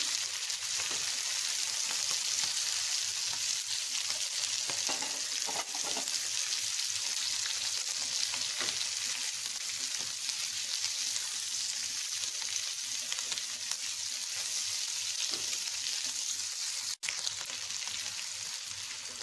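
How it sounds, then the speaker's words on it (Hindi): Onion and capsicum fry on a high flame, giving a constant dense sizzle with occasional faint stirring scrapes, and no one speaks. "हाई फ्लेम पे करेंगे, इसको फ्राई शिमला मिर्च और प्याज को"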